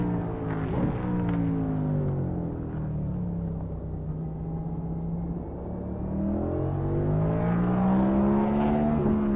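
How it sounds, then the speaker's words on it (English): Race cars in iRacing's NASCAR series at Circuit of the Americas sweep past on pit road, their engine tones rising and falling in repeated passing whooshes against a constant rumble, all fairly loud. "Like I can hear the cars zooming by on pit road too."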